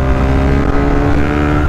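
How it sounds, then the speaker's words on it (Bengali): Loud, close exhaust roar from a modified GPX Demon GR 165RR motorcycle fitted with an Akrapovic exhaust, revving hard in second gear, a dense continuous rasp that holds steady through a short burst. "and এক্সজস্টের sound too much loud"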